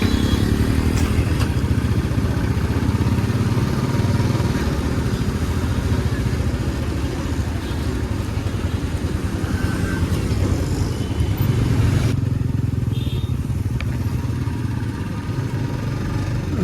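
A motorcycle rides along wet monsoon roads in Badlapur, its engine droning loud and close without a break, mixed with rushing road and wind noise.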